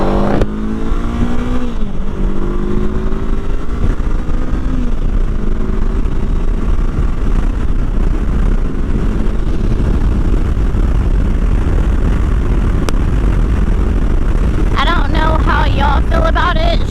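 A 2021 Honda CB500F motorcycle cruising on the highway, its engine droning steadily under heavy wind rush, with a rising shift in pitch early on and someone talking over the ride.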